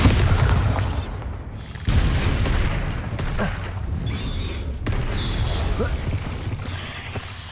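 Bombarda spell blasts in the PS5 game Hogwarts Legacy: loud, deep booming explosions with sharp cracks, over a continuous rumbling battle din with shifting bursts of noise.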